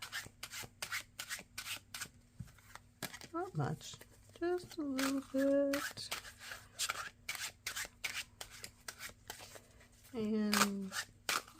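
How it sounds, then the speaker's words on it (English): A tarot-style card deck gets a quick little shuffle, heard as a series of soft riffling, rubbing bursts running through the clip, with a person talking briefly over it in a quiet room. "I'm going to give just a quick little shuffle here."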